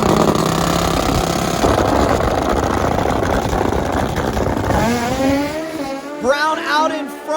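Nitrous-fed Suzuki GS and turbocharged Suzuki Hayabusa drag bikes roar together at full throttle, a loud sustained engine wail that fades and thins out toward the end, with a voice briefly heard over it.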